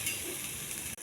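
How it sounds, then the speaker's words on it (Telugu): Ginger garlic paste fries in a pan while it is stirred, giving a steady, close sizzle with soft scraping that holds for about a second and then cuts off sharply. "ఇది పచ్చివాసన పోయే వరకు వేగించాలి"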